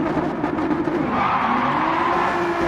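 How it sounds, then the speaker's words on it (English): Rallycross GT race cars at BB Raceway rev their engines on the grid before the start, a loud, steady, dense engine drone with a sustained tone held throughout and no speech. "As we get ready to race, the engines are revving."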